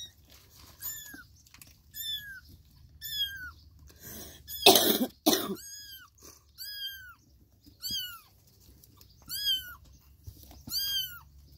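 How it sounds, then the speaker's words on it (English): Several small kitten meows repeat at intervals, close by in a drawer, with a brief burst of rustling or coughing noise in the middle. "A drawer full of kittens."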